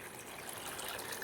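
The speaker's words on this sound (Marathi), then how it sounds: "आता त्याच्यामध्ये टाकणार आहे पाणी." Water pours into a pan that already holds a spoonful of salt, making a soft, steady trickling hiss that is faint and close, with no other sounds.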